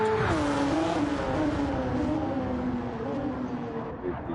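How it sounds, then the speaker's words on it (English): A year-2000 Honda NSX GT500 race car in Gran Turismo, its engine loud and close with a sustained tone that eases down and wavers across gear changes, with faint tire noise beneath. "Fantastic sounding Honda NSX GT500 from the year 2000"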